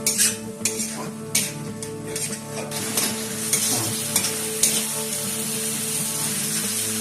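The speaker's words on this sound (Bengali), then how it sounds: "ভালো করে এটা কষিয়ে নিচ্ছি" A spice mixture for a vegetarian bread-ball curry being sautéed in a pan, with repeated spatula scrapes and clinks over a continuous close sizzle.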